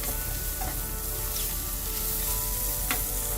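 Onions and baby portobello mushrooms caramelize in a pan with a steady, close crackling sizzle and a few soft stirring scrapes. No voices are heard.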